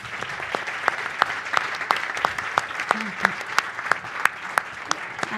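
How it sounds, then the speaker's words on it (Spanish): An audience at a panel event on productive linkage and human capital for small and medium businesses applauds the panelists with steady, dense clapping and sharper individual claps standing out, sustained throughout at moderate loudness. "A nuestros panelistas les pido un aplauso para ellos"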